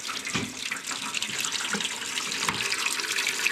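An automatic horse waterer fills itself in winter, water rushing steadily and close with a bright, hissing flow and small splashing bursts throughout.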